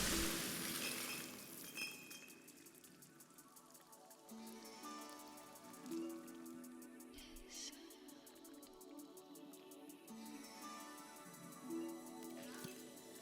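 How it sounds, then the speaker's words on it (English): Glass shot and shattering in the Hitman video game aquarium area, a burst of breaking glass followed by a long cascade of tinkling shards and clinks, loud and close with no talking. "Just make sure to shoot the glass before Robert's in there, or else this happens"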